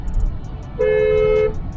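A single steady horn honk from a Volkswagen Tiguan, held for about a second, loud and close, over low engine rumble and faint background noise.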